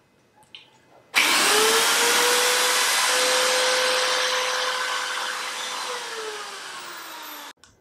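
Power drill boring into a wall, one continuous loud whirring run of about six seconds with a steady motor pitch that sags slightly toward the end before stopping abruptly.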